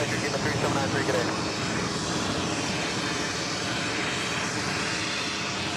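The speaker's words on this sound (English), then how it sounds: "David Airways heading to Georgetown, taking off there." An airliner takes off at JFK airport in New York, its engines roaring steadily and loud, with a dense rush of noise that eases slightly after the first second. A voice talks at times under the engine noise.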